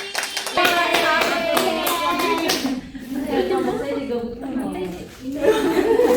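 A classroom of students claps briefly for a classmate during a microteaching session, a short burst of hand claps followed by chuckles, laughter and chatter from the group.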